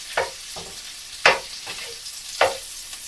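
Sausages and cabbage fry in a pan with a quiet, continuous sizzle, broken by three distinct scraping stirs of a utensil at close range, and no voices.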